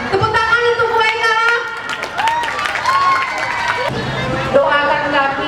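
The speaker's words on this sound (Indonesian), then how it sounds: "Tepuk tangan untuk Bu Eka." A crowd at a school retirement ceremony for a guidance teacher in Binjai claps under loud music and a chatter of voices. The applause is a low, mixed background that stays steady throughout.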